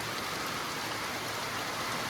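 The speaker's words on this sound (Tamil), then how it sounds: "இந்த மாதிரி தான் மழை பெஞ்சிட்ருக்கு." Heavy rain pours steadily at a hillside estate in Munnar, a dense, unbroken hiss of drops drumming on surfaces, close and loud with no voices.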